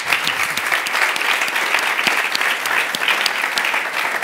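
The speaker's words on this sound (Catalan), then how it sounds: "Un aplaudiment." Steady, dense applause from a conference audience, loud and even throughout with no pauses and no talking over it.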